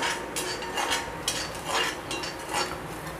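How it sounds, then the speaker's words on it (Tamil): Onions are stirred and sautéed in a pan for black chana sundal. A utensil scrapes and clinks against the pan in a loose, repeated rhythm, moderately close, with no talking. "இது நல்லா வதக்கிக்கிறேன் வெங்காயத்தை."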